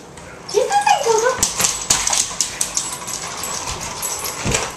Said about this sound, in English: The dog's got the robot down into a corner.